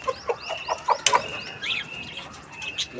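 Aseel chickens and roosters being let out, with short close chirps and clucks scattered through a busy, overlapping bird chorus and a few wing flaps.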